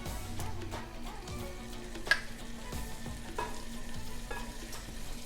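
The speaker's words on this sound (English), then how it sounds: "So now I have my hot oil, and to it I'm going to add some fresh minced ginger," Fresh minced ginger and garlic sautéing and sizzling in hot oil, a steady low sizzle with light stirring scrapes and one sharp clink partway through, close by with no talking.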